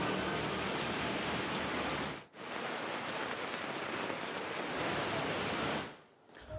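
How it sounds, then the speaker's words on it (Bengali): Heavy storm rain pours steadily in West Bengal around Bankura, Asansol and Singur, a dense, continuous hiss with no voices that briefly drops out twice before returning. "আকাশ কালো করে বৃষ্টি নেমেছে বাঁকুড়া, আসানসোল, সিঙ্গুরেও"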